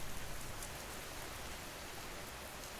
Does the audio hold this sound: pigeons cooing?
no